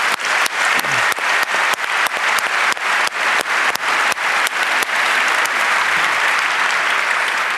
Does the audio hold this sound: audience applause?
yes